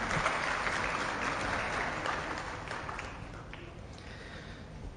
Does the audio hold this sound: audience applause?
yes